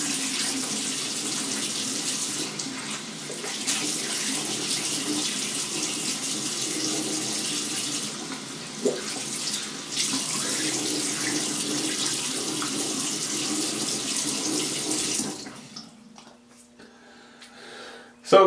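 Tap water runs steadily from a faucet into a sink while rinsing off after a head shave, a continuous close hiss that cuts off near the end, leaving near silence.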